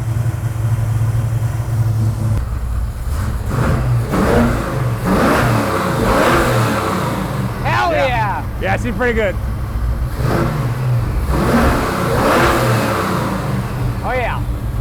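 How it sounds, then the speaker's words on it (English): A muscle car engine revs repeatedly, deep rumbling idle rising into throaty surges, loud and close, while people talk and cheer over it. "rev it up again"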